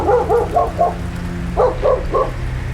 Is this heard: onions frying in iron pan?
no